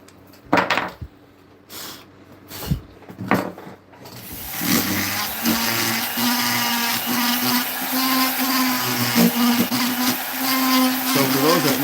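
Power carving tool grinding into wood while carving a gnome home: a few short bursts start and stop, then a steady loud whirring grind runs continuously, close up, with no talking.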